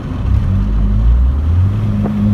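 A Honda H22A Euro R engine in an EK Civic sedan with an aftermarket exhaust drones with a deep, steady exhaust tone while cruising, low and smooth with a slight rise near the end.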